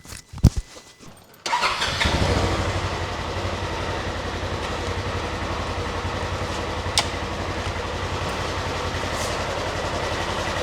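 A UTV engine cranks briefly, catches and settles into a steady, rapid idle after a fuel pump swap, running close and continuous with a faint clatter and no talk.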